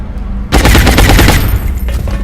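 Loud automatic gunfire in XCOM Enemy Within erupts after a brief quiet moment, a fast close rattle of shots that holds for about a second before trailing off into lighter, scattered reports.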